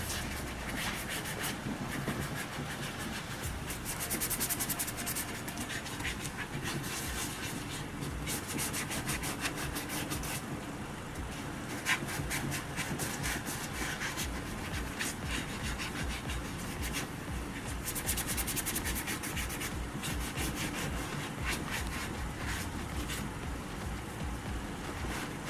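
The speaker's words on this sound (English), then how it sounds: "I'm gonna move on to this side now and just put a light sand on it just to take off the shimmer." Light hand sanding of a bumper tow hook before painting, a continuous close, even rubbing scrape with steady back-and-forth strokes throughout.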